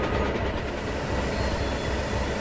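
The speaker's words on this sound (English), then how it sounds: "Edward pulled Spam Can and the train free of the tunnel" A steam train moving along icy rails gives a loud, continuous rumbling roar with a steady mechanical churn close by, and no voices are heard.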